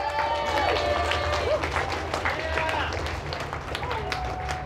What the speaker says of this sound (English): One last round of applause for our illustrious judges, everybody.